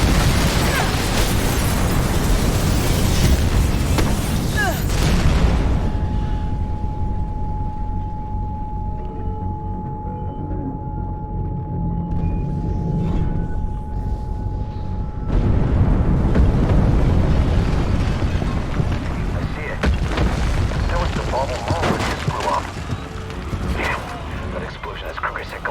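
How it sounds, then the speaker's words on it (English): Explosions in the video game Mirror's Edge: loud, sustained booming blasts and rumbling debris roar filling the scene, with a brief quieter stretch in the middle before the heavy rumble surges back. "Big explosion over here!"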